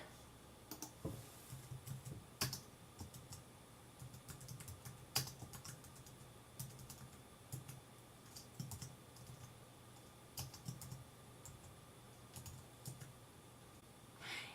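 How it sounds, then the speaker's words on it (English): A street address being typed on a computer keyboard, with soft, quiet key taps in quick irregular bursts and a few sharper clicks, no talking. "you simply type in your street address here"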